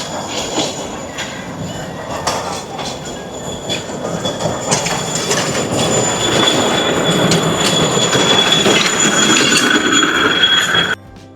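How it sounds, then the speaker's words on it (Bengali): A children's baby train ride at the Air Force Museum in Dhaka rolls past, with a rumbling, clattering run of wheels and squeals that grows louder and nearer toward the end before cutting off abruptly. "এখানে আরেকটা বেবি ট্রেন আছে"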